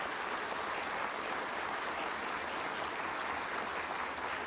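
Steady, dense applause from legislators filling a chamber, a broad even wash of clapping at a constant level with no individual claps standing out and no voices.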